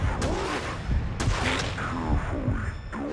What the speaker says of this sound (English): Heard unidentified gunfire.